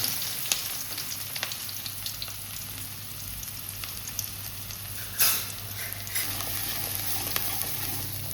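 Oil sizzles and crackles steadily as onions and chilies fry in a pan, with a brief sharp clatter of a utensil partway through.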